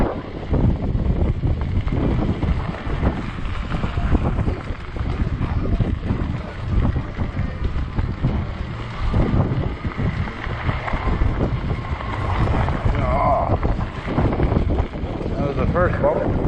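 Heavy wind roars and buffets the microphone while riding a 20-inch 48V Ecotric fat-tire e-bike in 30 mph gusts, a loud continuous rushing with slight surges, and a person speaking over it.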